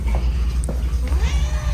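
A cat meows a few times inside a cat cafe, fairly close and clear over a steady low room hum.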